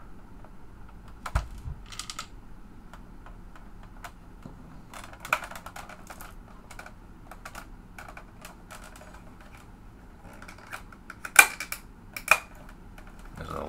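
Someone types on a new computer keyboard with scattered, uneven bursts of clicky keystrokes, with a few sharper louder taps near the end and a low background hum beneath.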